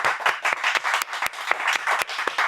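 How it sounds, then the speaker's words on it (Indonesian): Applause during an Indonesian comedy show, brisk group clapping with sharp individual claps standing out, steady and fairly close throughout. "Kok tepuk tanganin diri sendiri sih?"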